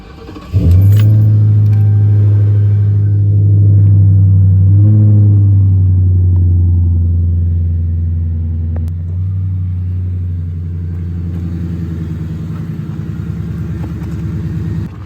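A car starts up and pulls away for a short drive, a loud, steady low engine rumble that swells and eases slightly, with jingling rattles on top and no talking.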